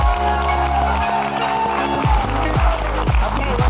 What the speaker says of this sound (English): One last round of applause for our winners and our contestants.